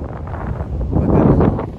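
Gusty wind buffets the microphone with a low, rumbling whoosh that swells toward the middle, close and steady.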